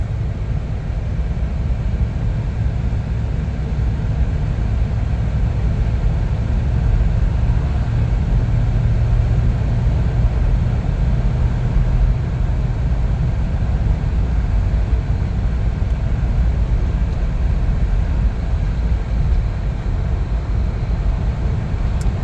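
A small car with no license plates drives along a road, its steady low engine and tire rumble continuous and fairly loud for the whole stretch, with no voices.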